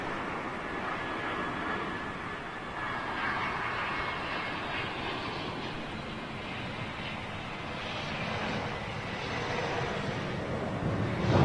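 A KLM airliner at London Heathrow gives off a steady, moderately loud jet roar that swells gently and then builds toward the end, with no voices over it.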